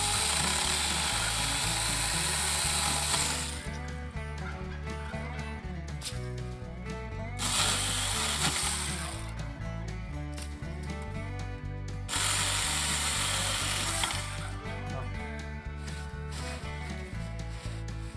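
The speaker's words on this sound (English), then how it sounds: "husband is going to chop some poplar to show you guys how easy it is to cut down trees and smaller twigs and things with this SmartSaker chainsaw" A SmartSaker mini chainsaw cuts poplar branches for goat browse, its whining motor surging loudly in three bursts between quieter idling and rattling stretches, close by and with no talk.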